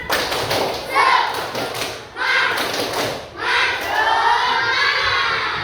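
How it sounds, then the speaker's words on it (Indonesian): Schoolchildren do a rhythmic spirit clap in a classroom, rapid hand claps and thumps in bursts mixed with their chanting voices, loud and close. "Tepuk semangat."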